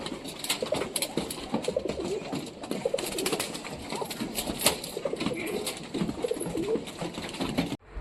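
Giribaj pigeons coo steadily and close by, soft throaty calls repeating across the whole stretch over a low background rustle, with no one talking.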